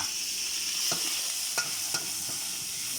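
Eel stir-fries with chili curry paste in a pan, a faint steady sizzle broken by a few soft scrapes and taps of a spatula, fairly quiet, no speech.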